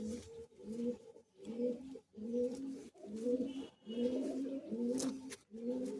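Kamagar pigeons coo steadily in a close, rhythmic series of low rolling phrases, repeating about eight times with no talk.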